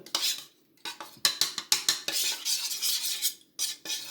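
A spoon stirs a white homemade face mask paste in a bowl, quick bursts of scraping clinks against the sides in an uneven rhythm, separated by brief pauses, close and clear.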